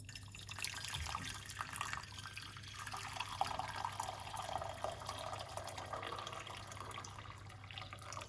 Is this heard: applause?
no